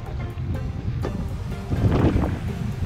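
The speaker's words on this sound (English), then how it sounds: "I can't paddle up this wind." Strong wind buffets the microphone while waves wash around a paddle board on the Marin County coast, with gusty low rumble and a swell of splashing surf near the end.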